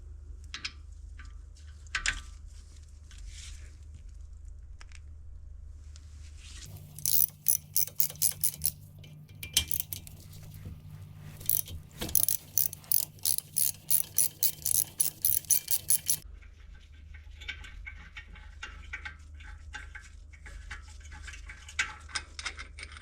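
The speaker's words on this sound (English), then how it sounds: "now need to remove these two Torx bolts" Ratchet clicking as T55 Torx brake caliper bolts are removed on an Alfa Romeo Giulia Veloce front brake, a rapid run of close, sharp ticks in repeated bursts with short pauses.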